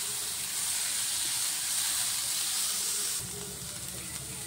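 Egg fried rice frying in a hot pan, a steady close sizzle and hiss that holds evenly, then drops slightly in level partway through as the pan is shifted.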